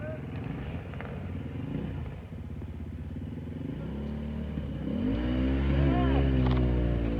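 A small 125cc motorcycle engine revs up and roars louder toward the end during an extreme hill-climb event, with someone talking over it.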